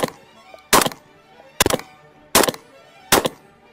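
Five rounds of birdshot fired from a budget semi-automatic 12 gauge shotgun, loud sharp blasts spaced roughly evenly less than a second apart, each with a brief echoing tail, close by.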